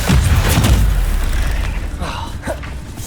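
In Hogwarts Legacy, the Incendio fire spell goes off as a loud, deep whooshing boom that fades into a crackling rumble, with a whistling tail near the end.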